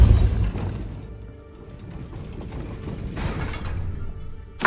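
A gate mechanism raising in the video game Hogwarts Legacy, a loud grinding, rumbling mechanical churn that sustains throughout with a sharp clank at the close, no talk.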